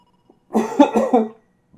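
A person lets out a short burst of coughing mixed with a hiccup while laughing, close and fairly loud for under a second, followed by quiet breathing and a faint catch of breath at the end.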